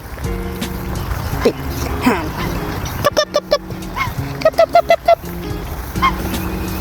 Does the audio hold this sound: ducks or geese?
yes